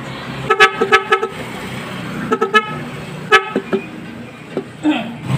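An N Hay Nhay 3 Pro music horn fitted to a Yamaha Aerox 155 or NMAX scooter blares a series of short, loud, tonal melodic blasts in quick bursts, close up, with a few pauses between phrases.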